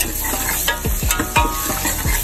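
Onions frying in oil with ground spices, a close, lively sizzle with a few quick spoon scrapes and stirring strokes across the pan.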